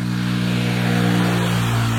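A motorcycle engine drones past on a village road in the jungle, a steady, loud, sustained hum that stays close throughout, with no voices.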